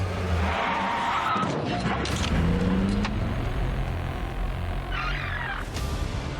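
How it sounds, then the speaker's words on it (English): A pickup truck braking hard on the road as a car skids behind it, with a loud tyre screech over continuous road and engine noise, close and sustained for several seconds. "the driver of the pickup applies the brakes. And the driver with the dash cam can't stop in time."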